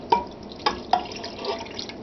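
Beef broth poured into a pot over corned beef, giving a few splashing drips and gurgles with short liquid bursts, close and fairly quiet with nothing else around it.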